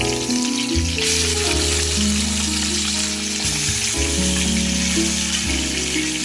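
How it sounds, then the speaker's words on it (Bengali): Medium-sized chicken pieces fry in oil left from frying potatoes, with a continuous bright sizzle alongside a steady tonal hum from background music that carries through the whole stretch. "চিকেনটাকে ভেজে নিচ্ছি"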